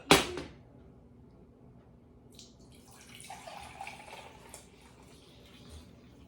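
Homemade chicken broth pours into a bag in a home kitchen, a soft liquid splash and trickle rising midway through after a sharp knock at the start, fairly quiet and with no talking.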